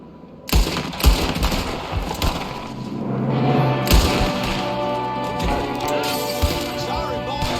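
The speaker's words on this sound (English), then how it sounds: "Shooting from the window." Rapid bursts of gunfire from a window in Red Dead Redemption 2, loud, close cracks and thumps scattered across the scene over a steady rumbling background of game ambience.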